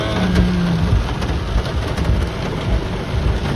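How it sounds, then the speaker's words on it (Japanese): Steady rain pours on a rainy day while travelling in Kumano, a dense, continuous hiss of drops loud and close throughout, with no talking. "いよ雨やね。"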